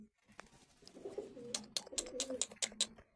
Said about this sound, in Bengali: এই দেখুন এই যে এই জোড়াটা, এইটা এই সাদা কবুতরটা জোড়া